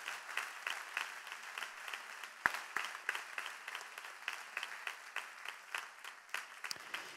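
Applause from a conference audience, a steady patter of many hands clapping at moderate distance throughout, fairly quiet with a few sharper individual claps standing out.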